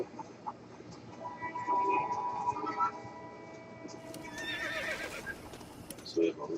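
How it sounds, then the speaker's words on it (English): A horse in Red Dead Redemption gives a loud whinny midway, with hoof clops and game ambience around it and a person talking over parts of it. "We got a horse."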